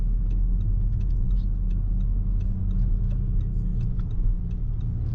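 A car driving during a driving-school lesson, heard from inside the cabin as a steady low engine and road rumble with faint clicks and rattles throughout, without talk.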